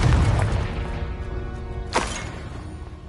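The Confringo explosion spell goes off in Hogwarts Legacy as a single loud burst with a sharp crack and booming tail, following a rumbling stretch of combat noise.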